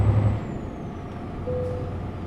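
Modded DAF truck in a truck simulator game, a short air-brake hiss over a low idling diesel rumble, with a brief tonal whine partway through, no talk.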